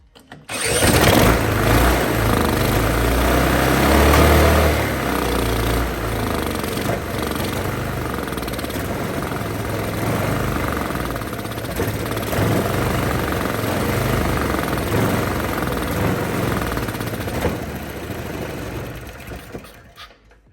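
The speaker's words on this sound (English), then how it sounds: "it was surging and it just didn't want to stay running when it was idling" A Honda GX160 small engine on a mini bike runs loud and close for about twenty seconds, its rattling buzz rising and sagging in uneven surges before cutting out at the end.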